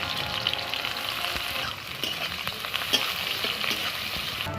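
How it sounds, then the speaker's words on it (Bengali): Chopped onions sizzling in a hot kadai with whole cardamom, cinnamon, cumin and green chillies, a steady close frying hiss with occasional stirring scrapes, for an egg chicken tarka. "এখানে কুচানো পেঁয়াজ আমি দিয়ে দিলাম কড়াতে।"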